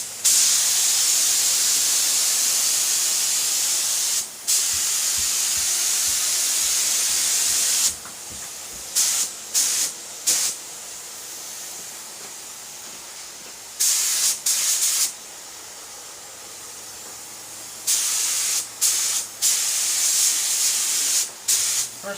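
Spray gun laying a tack coat of paint on a 1970s Pontiac Trans Am, a loud close hiss in long continuous passes broken by short pauses between strokes, no voices.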